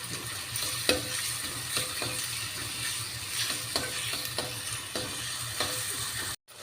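Onions frying with salt in oil for Andhra-style fish pulusu, a steady close sizzle throughout with occasional scraping strokes of a spoon against the pan, no voices.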